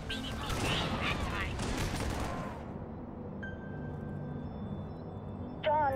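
Units opening fire in Halo Wars, a dense crackling volley of gunfire under a shouted voice that fades into quieter battle ambience, ending with a sharp metallic hit.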